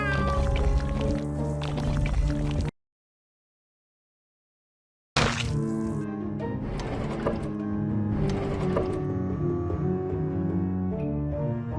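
A cat meows repeatedly in the game American McGee's Grimm, with harmonic cries over music and game effects, broken by a short silent gap partway through.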